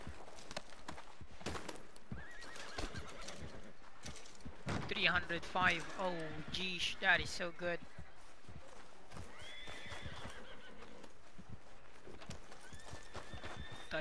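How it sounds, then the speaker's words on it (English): A horse in Red Dead Redemption 2 lets out a loud, close whinny amid clip-clopping hooves, with scattered hoofbeats before and after, while a player talks over the game sounds. "Thought it was my horse."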